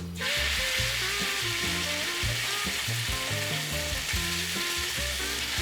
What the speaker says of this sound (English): add oil in a large wok and fry the meat in high heat